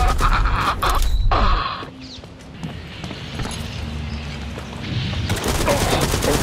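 Video game support fire: rapid bursts of gunfire and sharp impacts crackle in dense volleys, ease off briefly in the middle, then return loud and close.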